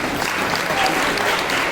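Audience applause at a Hindi-language farmers' welfare council event honoring women farmers, a steady dense wash of clapping throughout, fairly loud and close, welcoming a guest.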